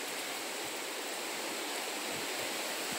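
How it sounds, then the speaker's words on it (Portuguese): Twenty litres of water pours steadily from a bucket into a feeder for bees, a continuous rushing splash with no talking. "Vamos botar esses 20 litros d'água."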